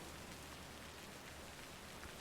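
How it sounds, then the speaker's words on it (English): Steady, soft rain patters continuously as a quiet ambient backdrop behind an indoor chat stream, an even hiss without thunder or voices. "Does the rain sound okay? Is it too loud for you guys?"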